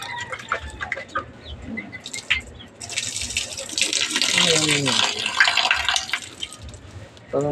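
Tap water runs steadily into a sink as vegetables are rinsed, a broad continuous splash close by, with a few brief voices and faint bird or rooster sounds around it.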